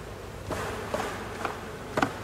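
Honeybees from a recovered swarm buzz at an open hive, a close, continuous hum broken by a few soft knocks and clicks.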